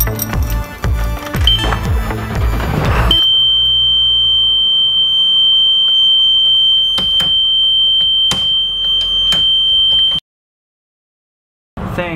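Emergency exit alarm on a school bus sounding as a steady, piercing high tone that runs unbroken for several seconds, with clanks and knocks under it, then cutting off abruptly before a brief resumption.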